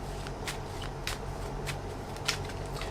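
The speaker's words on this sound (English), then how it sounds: "I need to shuffle this again." Tarot cards being shuffled by hand, a series of soft riffling bursts repeating roughly every half second, close and fairly quiet over a steady background hiss.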